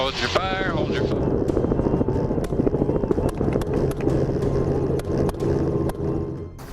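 A helicopter hovers and maneuvers during an aerial wild boar hunt, its loud rotor drone and engine roar steady and close throughout. A voice talks over it.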